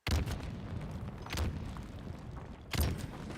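Grenade blasts in the Halo video game, three deep booming thuds spaced about a second and a half apart, each with a brief rumbling tail, moderately loud.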